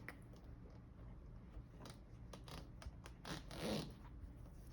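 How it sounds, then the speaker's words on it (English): Soft, quiet rattling of a small zipper pull being jiggled back and forth in short, irregular bursts, close by. "I am gonna lift this up and wiggle this zipper pull back"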